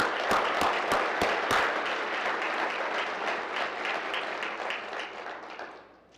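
An audience claps steadily for an honor guard at a city State of the City address, a dense, loud wash of applause with a few sharp near claps early on, gradually thinning and fading out at the end.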